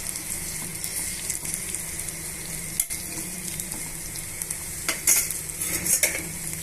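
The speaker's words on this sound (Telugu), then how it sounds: "పచ్చిమిర్చిని తర్వాత ఉల్లిపాయ ముక్కల్ని ఇలా బాగా వేయించేసుకోండి" Green chillies and onion pieces fry in hot oil for hotel-style masala dosa filling, giving a steady close sizzle with occasional stirring scrapes and utensil clinks, no voices.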